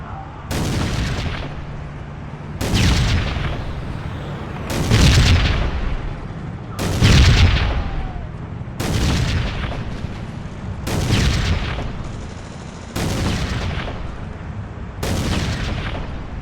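A tank turret gun in the Iron Storm video game fires eight heavy, booming rounds about two seconds apart, each blast followed by a short rumbling decay, loud and close.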